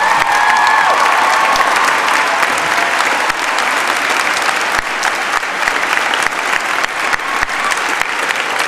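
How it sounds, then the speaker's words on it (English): Loud, sustained applause from a large audience at a university welcome event, a dense continuous roar of clapping with a few scattered cheers, holding steady throughout without pause. "Please keep the applause going for your student body vice president, Parker Calvert."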